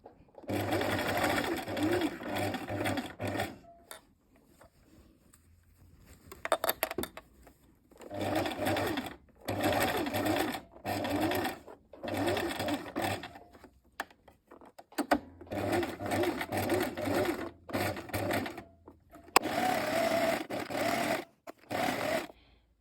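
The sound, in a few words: sewing machine stitching a trouser seam with backstitch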